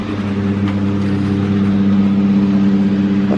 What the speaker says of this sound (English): Hubby's out there mowing the grass.